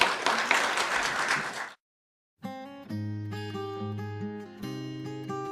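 A church congregation claps in a short burst of applause that cuts off into silence, followed by sustained organ or keyboard music with held chords.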